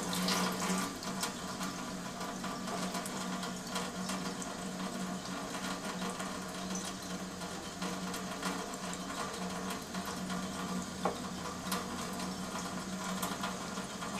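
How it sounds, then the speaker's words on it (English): Water runs steadily through an Enagic SD501 Kangen water ionizer with a soft hiss and faint mechanical hum, unbroken for the whole stretch, fairly quiet and close. "the water is going through the Enagic SD501 Kangen Water Ionizer"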